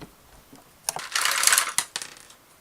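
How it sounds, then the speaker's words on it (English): A screw is turned out of a Roomba vacuum, heard as a short burst of close, faint metallic ratcheting with a few clicks around it. "let's keep unscrewing"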